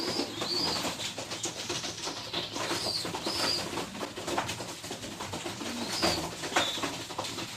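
Soft coos of caged pigeons repeat now and then over a busy, steady background hum, with no talking.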